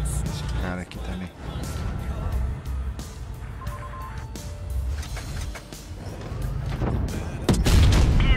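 Gunfire in a tank combat video game with a Firefly tank, rapid bursts of shots and heavy booms over a rumbling engine, with someone talking throughout.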